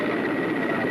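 A Soviet Mi-8 military transport helicopter drones with a steady, dense rotor and turbine roar, loud and continuous with an even, slightly pulsing texture and no voices.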